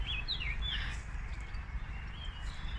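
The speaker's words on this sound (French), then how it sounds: "Voilà, un vrai paradis chez les Martins, où on entend les oiseaux, un petit peu les voitures" Small birds chirp in short high tweets in a garden in Alsace, a few calls clustered early then faint, over a steady low rumble of distant traffic.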